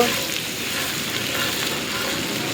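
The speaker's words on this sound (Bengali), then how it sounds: "দেখুন কি সুন্দর ভাজা হচ্ছে" Sliced onions frying in a pan as the base for a mutton curry, a dense, steady hiss and crackle of hot oil, close and continuous with no pauses.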